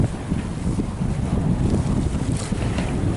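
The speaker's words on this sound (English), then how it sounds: "Well, we're having a nice sail." Steady rush of wind and water as a sailing yacht moves along in Greek or Turkish waters, with continuous low rumbling wash and no talking.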